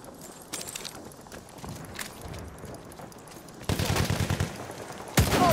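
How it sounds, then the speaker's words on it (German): Gunfire from a World War I first-person shooter, a Nivelle Nights conquest match, with scattered distant shots giving way to a loud, rapid machine-gun burst and a final close blast. "Aufpassen, Maschinengewehr!"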